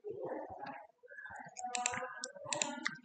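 Computer mouse clicks on a desk during drafting software work, several sharp clicks scattered across a few seconds amid soft handling noise, close and fairly quiet.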